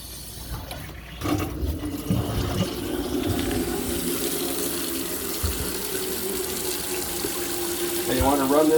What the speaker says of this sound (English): Now we'll turn the cold water back on.